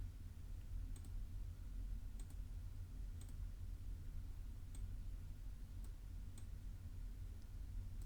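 Faint, sparse computer mouse clicks on a measuring tool in Google Earth, about eight single ticks spaced unevenly over a low steady background hum, with no speech.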